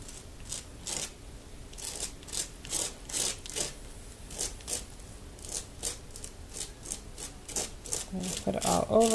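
Excess paint is scraped across the top of a stencil, a run of regular rasping strokes repeating steadily at close range, with a brief faint squeaky sound at the very end.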